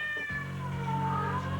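A cat stuck in the rim of a tire lets out one long, drawn-out meow that wavers and slides downward, close and fairly clear against quiet surroundings.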